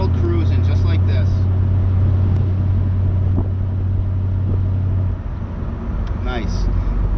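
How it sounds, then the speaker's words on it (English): A 1971 Oldsmobile Cutlass Convertible cruises on light throttle, its steady low engine drone and road rumble continuous and close, with a dip in tone near the end and wind noise over the top. "My favorite thing to do in this car is one finger pot throttle cruising, just like this."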